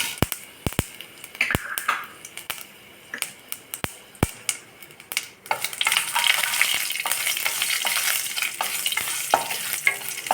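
Sharp popping crackles burst out at first, then give way to a dense, steady sizzle of mustard seeds, chilies and fenugreek frying in hot coconut oil, close and loud.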